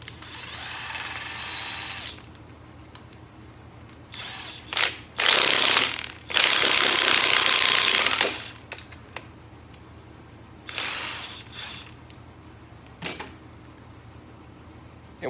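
An impact wrench works fasteners on a seized Ford 5.0 engine in several loud, rattling bursts, the longest lasting a couple of seconds, separated by quiet gaps with lighter clicks and clanks.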